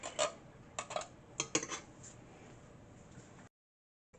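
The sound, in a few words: can being destroyed by a Dalek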